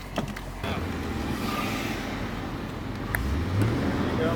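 A BMW M5 drives during a driving lesson, its engine a steady, close drone inside the cabin that swells louder toward the end as the car picks up speed.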